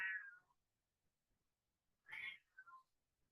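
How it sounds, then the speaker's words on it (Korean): A cat meows indoors during a Korean-language lesson: one short meow, a pause of well over a second, then a second meow trailing into a quick double mew, fairly faint and with no talking over it. "제가 고양이 소리 좀 어떻게 해볼게요."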